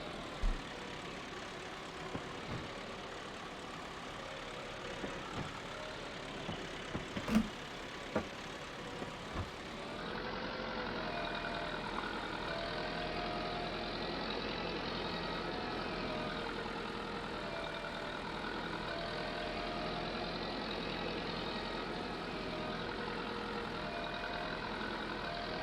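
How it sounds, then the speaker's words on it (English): In Farming Simulator 22, a tractor and harvester combination runs with a steady droning engine hum. Faint clicks come early on, then the engine noise grows fuller and stays constant, with no talking. "And I just can't believe how well this harvester is working out"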